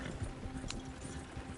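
Horse hooves gallop in the video game Red Dead Redemption 2, a soft, rapid clip-clop rhythm running steadily at low volume.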